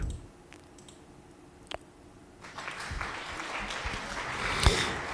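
A livestream applause sound alert, triggered by a viewer, plays after a near-quiet opening with a few faint clicks. It then swells into steady clapping for the last half of the clip.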